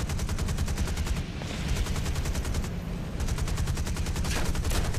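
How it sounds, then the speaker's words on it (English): Rapid machine-gun bursts from a bomber's tail gun in the War Thunder video game rattle continuously, with short gaps between strings of fire and engine drone underneath. "Oh, his tail gun is opening up on me."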